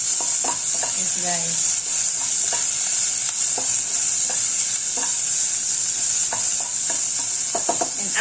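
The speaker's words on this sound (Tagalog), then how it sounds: "medyo ito-fry muna natin yung ating garlic and onion" Garlic and onion sizzle steadily in hot oil in a home kitchen while a utensil scrapes and stirs the pan in short, repeated strokes, close and constant, with a few brief spoken words over it.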